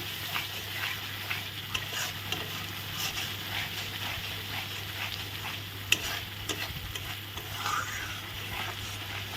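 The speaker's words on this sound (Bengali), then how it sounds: "দিয়ে এখন ভালো করে নেড়ে চেড়ে নেবো" Potatoes and ground nut paste fry in a pan, making a low, steady sizzle while a spoon stirs and scrapes with occasional soft clicks, fairly quiet and without talking.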